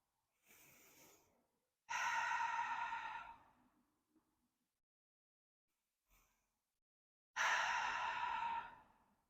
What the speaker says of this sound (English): Taking 2 rounds of breath here.